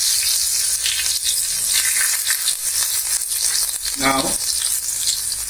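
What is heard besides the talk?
cumin, green chilies and ginger sizzling in hot oil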